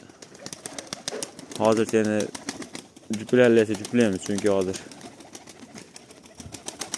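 Domestic pigeons kept at home coo and shuffle nearby, soft wing flutters and calls running beneath a voice, which talks at length over them.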